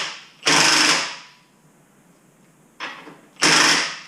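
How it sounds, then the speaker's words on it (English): An impact wrench fires in loud, rattling bursts, two long hammering runs separated by a short quieter burst and a pause, while fitting an X pipe to a 2019 Corvette Z06. "that's the ratcheting sound you're hearing"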